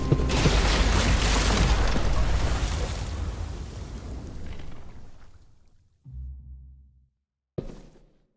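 A bomb detonates in The Walking Dead: The Final Season game, a huge roaring blast that rumbles and slowly fades over several seconds, followed by a short low thump and a final brief crash.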